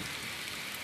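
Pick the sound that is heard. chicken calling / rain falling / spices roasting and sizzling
rain falling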